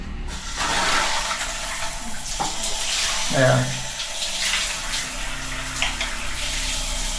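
A shower fed by a booster pump runs in a strong, steady hiss of water spraying close by, while someone speaks briefly over it.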